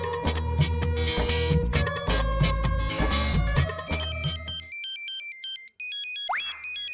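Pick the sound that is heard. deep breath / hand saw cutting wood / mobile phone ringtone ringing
mobile phone ringtone ringing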